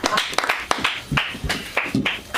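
Small audience clapping for a comedian as he takes the stage, a few seconds of uneven, close hand claps in irregular bursts.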